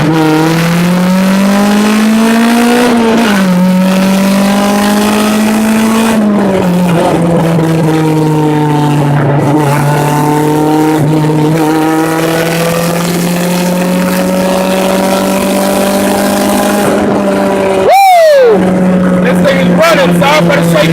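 A Honda Civic engine pulls hard through the gears, its rising drone climbing in pitch, dipping at each shift, then climbing again, loud and close throughout, with a sharp rev spike near the end.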